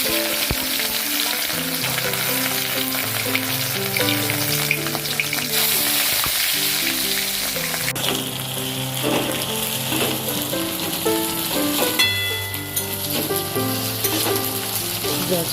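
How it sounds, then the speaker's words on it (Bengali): Dried fish (shutki) frying in hot oil over a lowered flame, cooked without water, giving a steady, continuous sizzle that runs beneath background music. "এবার আমি শুটকিগুলো ভেজে নেব।"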